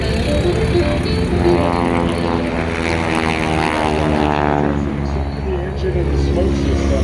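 An 85-year-old Stearman biplane at an airshow drones overhead with a steady propeller engine roar, the pitch sliding downward as it passes; voices talk faintly beneath the engine.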